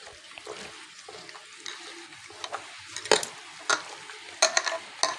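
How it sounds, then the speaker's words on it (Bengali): Chicken is worked by hand and spoon with onion, Kashmiri chilli powder and spice paste in a bowl, giving soft wet squelches and scraping with sharper clinks of utensil on the dish, growing louder toward the end. "দিয়ে এটাকে এইবার আমি ভালো করে মাখিয়ে নেব।"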